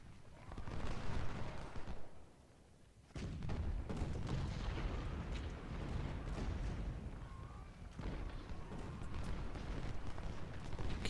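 Cannon and musket fire in Ultimate General: Civil War, Battle of Malvern Hill, with dense rolling volleys and booms at canister range, steady and loud throughout apart from a brief lull near the start.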